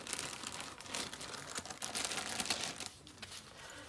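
Tarot cards shuffled and pulled make close, rapid papery riffling and flicking with crisp snaps, a dense burst that briefly thins near the end.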